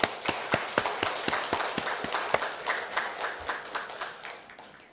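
Audience at a Korean Buddhist sermon gives a short round of applause, a sparse, steady run of distinct claps that thins and fades out over a few seconds.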